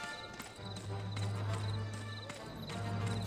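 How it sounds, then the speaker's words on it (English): Horse hooves clop at a steady walking rhythm in the Western video game Gun, moderately close over a low sustained background tone. "there's a horse all the way by Marcus"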